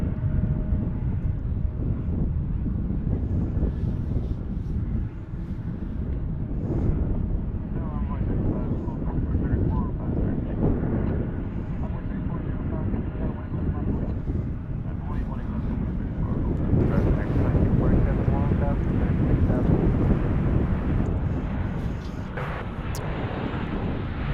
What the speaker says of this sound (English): A320, American Airlines from Monterey, Mexico.